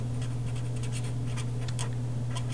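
Marker or pen writing on a board or paper while working through a math problem, with short scratchy strokes in irregular bursts over a constant low electrical hum.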